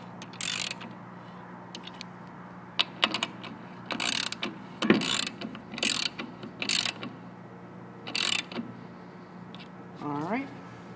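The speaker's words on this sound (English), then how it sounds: "we're going to just tighten it about a quarter turn and do a quick test on it" Repeated ratcheting clicks and mechanical turns in short bursts while the belt tensioner on a single-motor DI-9200 BioWave is tightened, close by, with brief voiced sounds near the end.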